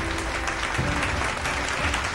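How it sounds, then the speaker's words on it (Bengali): Dense, steady clapping from an audience at an award ceremony fills the room, close and continuous throughout. "একটু জোরে হাততালি হোক"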